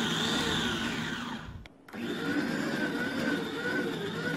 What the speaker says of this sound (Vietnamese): 2 củ tỏi lớn anh chị lột vỏ, đập dập rồi cho vào máy xay luôn.